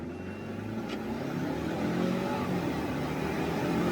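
A 2022 Ford Bronco with a 4-cylinder engine accelerates from inside the cabin with a steady, moderately loud engine drone that builds gradually, heard without talk.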